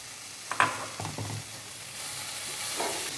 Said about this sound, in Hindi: इसको अच्छी तरह से मिक्स कर लें और 2-4 मिनट के लिए इसको भून लें।